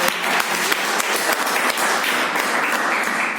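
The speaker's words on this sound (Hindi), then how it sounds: "तो एक बार जोरदार ताली।" Steady, enthusiastic applause from a crowd fills the whole stretch, dense clapping without pause.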